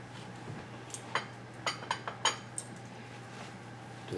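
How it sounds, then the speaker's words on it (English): A spoon works around a pot of coconut chicken soup, giving a handful of quiet metallic clinks and scrapes spaced irregularly over a faint background hum. "Give that a quick stir."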